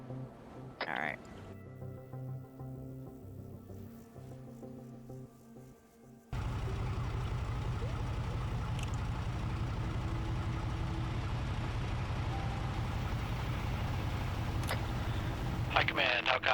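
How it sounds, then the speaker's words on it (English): Vehicle engines in the military game Arma 3 idle at first, then rise abruptly into a loud, continuous low drone. The heavy rumble holds steady through the rest, with scattered game sounds over it. "Hearing 2 engines."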